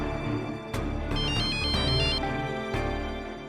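A phone ringtone plays nearby, a bright melodic electronic tune that rings steadily through the whole moment with no one speaking.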